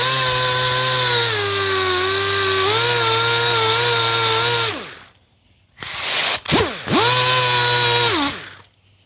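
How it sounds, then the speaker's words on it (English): A power polishing tool whines steadily against resin parts and white enamel-painted model features, loud and close, then cuts out briefly before spinning back up in two short bursts. "I just need to be careful here when I'm polishing some of the features."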